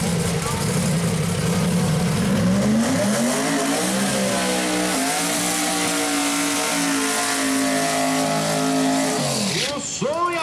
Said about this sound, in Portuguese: E o som e a fúria de Roder Jambo usado em seu Camaro V8 do Biturbo